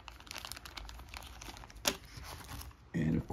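Plastic bags from a Villains & Vigilantes tabletop game box crinkle faintly in an unboxing, with scattered rustles, one sharper crackle and a brief louder crunch near the end.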